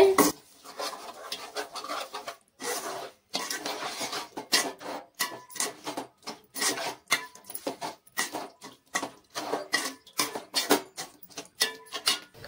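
Fish pieces being mixed with turmeric and chili powder in a pan for Nellore-style fish pulusu give a steady run of close scraping and clinking strokes, with short pauses between bursts and no talking.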